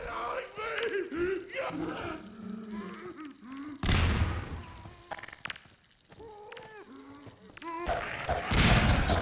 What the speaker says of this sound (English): The explosions do look amazing.